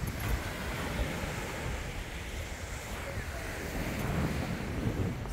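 Sea waves wash continuously onto a beachfront in San Juan, Batangas, a broad steady surf roar mixed with wind buffeting the microphone, no distinct breaks, fairly loud throughout.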